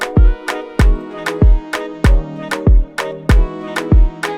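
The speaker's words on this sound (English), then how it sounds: "usually I look to use a clap as a snare or as one of the snares" An electronic Afropop beat pairs a steady kick with crisp clap hits standing in as the snare, falling in a regular pattern over a soft melodic loop, loud and close.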